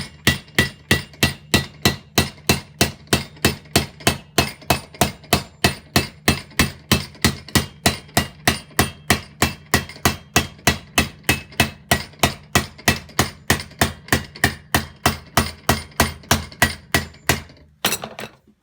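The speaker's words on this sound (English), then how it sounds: "start to work by going in this groove here to hammer this down" Steady, rapid metal hammer strikes on silver over a wooden stake ring out one after another for a long run, evenly paced and loud, ending with a brief scrape.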